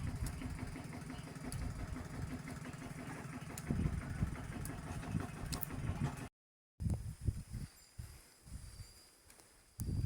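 A tractor engine runs steadily while tilling a field for planting beans, a constant mid-range drone with rumbling variations; after a brief gap the engine continues a bit rougher and more uneven.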